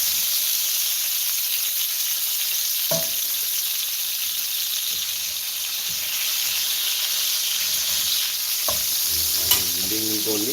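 Longganisa sausage fries in its own rendered fat with a loud, dense sizzling hiss that holds steady from start to finish, with a few brief stirring scrapes and pops near the end.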